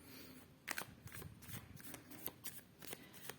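Tarot cards being shuffled by hand, a quick run of soft riffling flutters and snaps, close and quiet.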